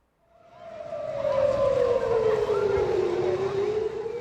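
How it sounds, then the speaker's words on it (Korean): A loud air raid siren at a beach rises and then holds a long, sustained wail that slowly falls in pitch, sounding steady and close for several seconds. "해변가에 공습 사이렌이 울려 퍼지자 사람들이 뛰기 시작합니다"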